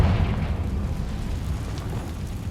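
Confringo fire spell explosion in Hogwarts Legacy, a loud, dense roaring blast that holds steady throughout with heavy low rumble and no talk.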